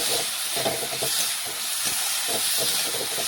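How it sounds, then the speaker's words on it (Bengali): Chopped tomatoes and mixed vegetables sizzle in a pan while frying for sabu khichuri, a steady, even hiss with no voices. "টমেটো দিয়ে ভালোভাবে নাড়াচাড়া করে সমস্ত কিছু সবজি একসাথে কিছুক্ষণ আমি ভেজে নিচ্ছি"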